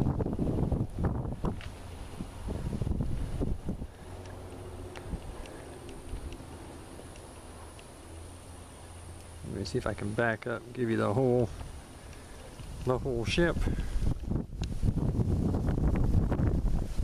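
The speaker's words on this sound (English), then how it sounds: "Sorry about the wind." Wind gusting into a microphone outdoors beside a wooden pirate-ship play structure ahead of a storm, rumbling buffets that come and go, with someone talking over parts of it.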